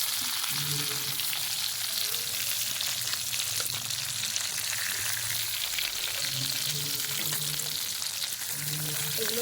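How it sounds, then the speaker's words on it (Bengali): Pointed gourd (potol) pieces lightly frying in oil in a pan, being prepared for a Bengali stuffed chicken potol dolma; a close, steady sizzle runs without a break through the whole stretch. "এরকম করে একটু হালকা করে ভেজে নেবো দেখুন এবার তুলে নেবো ভেজে"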